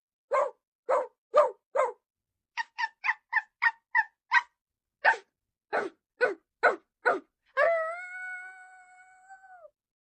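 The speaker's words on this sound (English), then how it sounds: "The barks echoed across the countryside to the Dalmatian plantation" A run of short, sharp barks in quick bursts, followed by a long drawn-out howl that fades away, with no voices.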